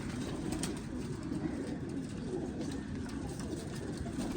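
Pigeons coo steadily nearby, a soft continuous low burbling that carries on throughout without pause.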